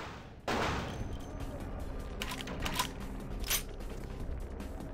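Gunfire in the video game Vampire The Masquerade - Bloodlines: a sudden loud burst followed by several sharp shots over a sustained noisy din, fairly close and loud.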